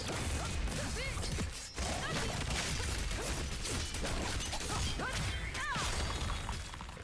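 A video game skill combo of Spin Cutter into Dark Axle into Surging plays out as dense, continuous clashing and metallic impact effects with whooshing tones, loud and busy throughout with one brief dip.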